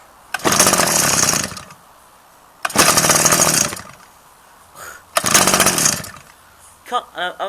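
A small engine fitted with a Mitsubishi carburetor revs hard in three loud, roughly one-second bursts separated by short pauses, with a brief voice near the end.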